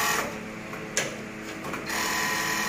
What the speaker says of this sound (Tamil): இப்போ அடுத்த தையல் இந்த பக்கம் தைக்கிறேன்